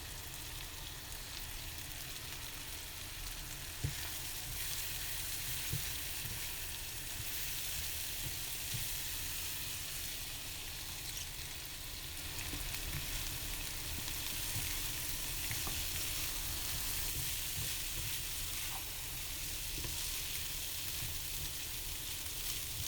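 Quinoa frying and sizzling steadily in a hot pan on the stove, a continuous bright crackle with occasional stirring clicks, close and alone for the whole stretch.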